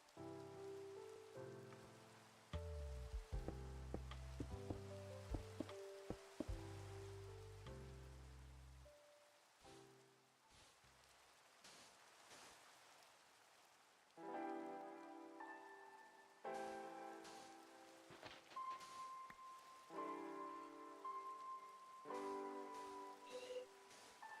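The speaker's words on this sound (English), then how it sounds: "And now it's starting to rain." Rain falling in the Minecraft video game, a steady hiss running under game music and sound effects throughout.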